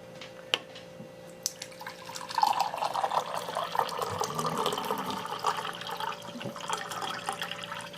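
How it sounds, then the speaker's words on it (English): An Avalon A13 electric bottleless water cooler dispenses cold water: a click, then a steady stream begins and runs on beside a faint mechanical hum. "we'll see what the temperature is of the water that's coming out of the dispenser"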